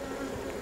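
Honey bees buzz steadily around an open apiary hive during an inspection, a close, continuous droning hum with a brief higher whine from a single bee passing near.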